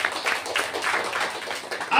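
Worship congregation clapping hands together in a steady, dense patter, loud and close, with a voice faintly mixed in beneath the applause.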